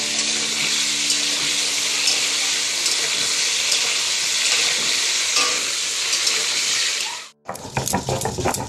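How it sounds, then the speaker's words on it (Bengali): Potatoes sizzle loudly and steadily in hot oil in a pan, a close, continuous hiss that cuts off abruptly near the end, followed by a few clattering utensil knocks. "দাঁড়াও আলুটা একটু ভেজে নিই।"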